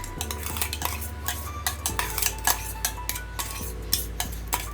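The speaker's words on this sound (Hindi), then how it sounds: "तो हम अच्छी तरह मिला देते हैं सब।" A spoon stirs ginger-garlic paste into a chicken masala marinade for chicken maharani, making repeated close clinks and scrapes against the bowl with a low steady hum beneath, no voices.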